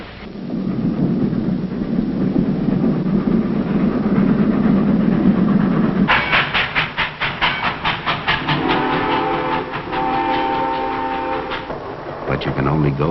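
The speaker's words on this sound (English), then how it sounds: "The one sure way to get someplace is on a train." A rumbling train rolls along the tracks, then a rapid rhythmic clatter of wheels over rail joints takes over, loud and steady.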